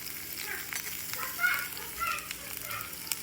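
Onion fries in a pan with a faint crackling sizzle and a few soft stirring scrapes over a short stretch, quiet and close, no voices.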